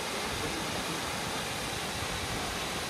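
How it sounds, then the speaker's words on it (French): Cascade Niagara waterfall on Réunion Island roars in a dense, constant rush of falling water, loud and close, with no voices over it. "On est arrivé, on est à la cascade Niagara"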